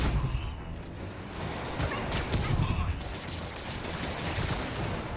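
Enemies firing at Spider-Man in the video game Marvel's Spider-Man, with a dense, steady clatter of gunfire and crashing impacts running throughout the fight.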